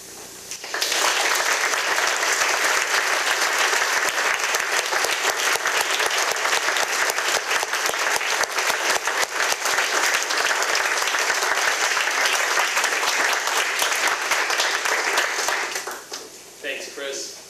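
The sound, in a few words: audience applause at a high school seminar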